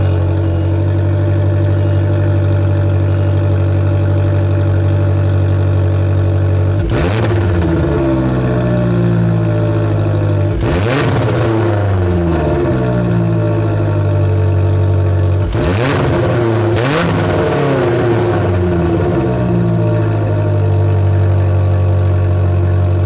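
A car fitted with a Thermal Dynamics Touring rear exhaust runs continuously with a deep, droning note, loud and close, with several rising and falling rev blips through the clip.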